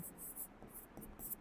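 Chalk or marker writing on a board during a physics lecture, a series of quick scratchy strokes in short bursts, faint and close, with no talking.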